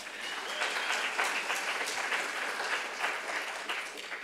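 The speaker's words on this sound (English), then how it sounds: "Let's go ahead and applaud that" Steady applause from an audience at a business plan competition finals as prizes are announced, dense clapping sustained throughout, moderately distant and even in loudness.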